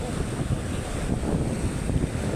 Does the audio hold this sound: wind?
yes